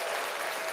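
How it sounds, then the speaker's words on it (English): Dense, steady applause from a crowd fills the whole moment, loud and close, with no voices rising above it. "round of applause."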